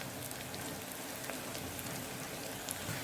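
Onions sauté in a pan for mutton biryani, giving a faint, steady crackling sizzle with scattered soft pops throughout.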